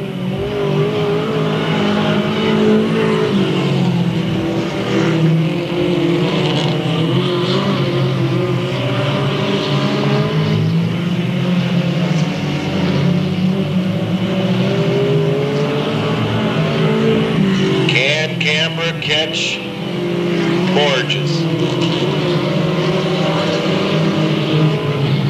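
Race cars roar around a speedway track in a 2000 event, a loud continuous blend of engines from several cars rising and falling as they pass, heard from trackside.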